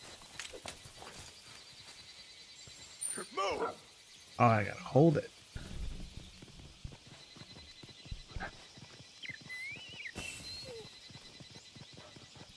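A horse's hooves clip-clop in the Monster Hunter video game, with soft, steady footfalls under a player who talks over them, plus a few louder thumps and game effects in between.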